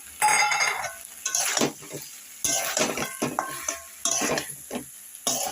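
Cauliflower and chopped tomato stirred in a pan, giving repeated loud bursts of scraping and clinking spoon strokes with a light sizzle between them and no voices.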